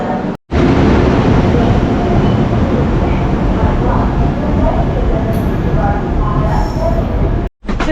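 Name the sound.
train at railway station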